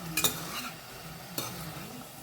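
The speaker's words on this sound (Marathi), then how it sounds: "सो चवी पुरतें घालता मीठ आनी हेका न्ही बरें मिक्स करून घेवया." A spoon stirs salted seasonal mushrooms into a Goan xacuti curry in a pan: two distinct scraping strokes over a soft, ongoing sizzle, close and clear with no talking.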